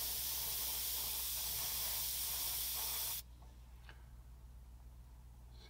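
An airbrush sprays paint onto an HO scale model excavator, a soft close hiss that runs steadily and then cuts off abruptly partway through, leaving quiet room tone with faint ticks.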